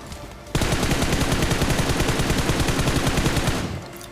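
Rapid automatic gunfire from a PUBG-style battle royale game rattles in one loud, sustained burst lasting about three seconds, then cuts off.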